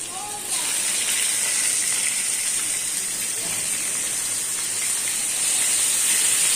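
Chopped garlic and green chilies hit hot oil in a pan, setting off a loud, steady sizzling hiss that starts abruptly and holds evenly throughout.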